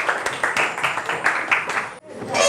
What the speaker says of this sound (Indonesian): tepuk tangan dulu kelompok 3 ya